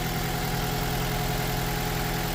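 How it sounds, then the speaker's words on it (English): A 2009 Mitsubishi Colt engine idles roughly with a misfiring cylinder, a steady, loud, uneven mechanical drone with constant vibration and no voices. "The engine is still running rough."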